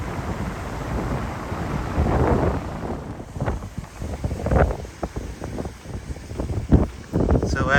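Strong wind buffets the microphone on an open ocean beach at low tide, roaring in loud gusts that rise and ease, with a brief stretch of muffled talking under the rushing noise.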